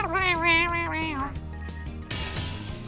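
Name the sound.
cat meowing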